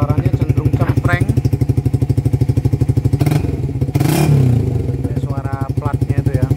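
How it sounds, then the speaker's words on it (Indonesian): A Suzuki GSX-R150 motorcycle fitted with a locally made Satria FU exhaust idles with a fast, throbbing pulse, then revs up sharply twice with a raspy, slightly cracking note, close and loud, while a voice talks briefly over it. "itu kira-kira gambaran suara kalau GSX dipakaikan knalpot Satria FU yang lokal punya ya"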